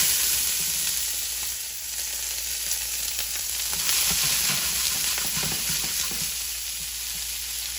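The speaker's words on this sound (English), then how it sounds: "Add a little oil, and let's char our corn." Corn kernels charring in hot oil in a preheated pan over high heat, a steady crackling sizzle with scattered pops and stirring, close and continuous with no voices.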